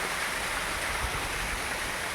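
The stream of Hawla falls, fed from the mountain, pours in a constant, even hiss of falling water, close and steady throughout with no other sounds standing out.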